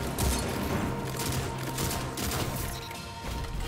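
Dense, rapid gunfire from the BxR-55 rifle in the video game Destiny 2, a continuous loud burst of overlapping shots and impacts with no pauses.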